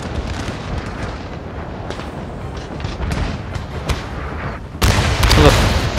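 Line infantry fire rolling musket volleys in a Napoleonic war video game, a dense crackle of overlapping shots with a sharper, louder burst near the end, under a constant battle din.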